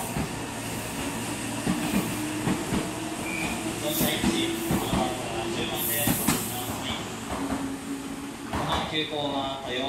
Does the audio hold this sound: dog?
no